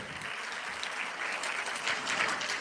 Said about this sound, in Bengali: তাদের জন্য একটি করতালি দিবেন